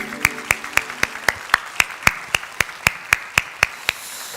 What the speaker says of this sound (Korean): 박수로 하나님 앞에 영광을 드리겠습니다